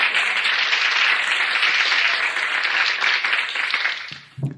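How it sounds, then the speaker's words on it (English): An indoor audience applauds in a steady, dense wash of clapping that holds for several seconds and then tapers off. "That applause is also for my Show Enough supporters"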